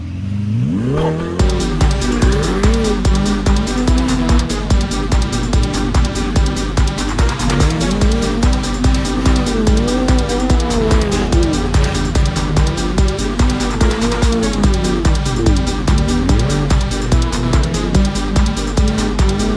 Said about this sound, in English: This is the Ferrari 488 GTB.